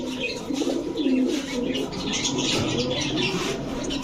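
A pair of Lal patti pigeons coo softly and repeatedly at close range, with soft murmuring calls and faint chirps in the background.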